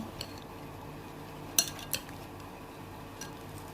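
Dried anchovies and fresh radish mixed with a utensil in a pot, soft scraping and stirring with a couple of sharp metallic clinks against the pot, close but quiet, no talking.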